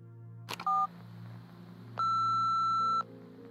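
A phone voicemail system in the game Nobody Wants to Die gives a short two-tone blip, then after a pause a single long, clear, steady beep lasting about a second, heard alone over a faint hum.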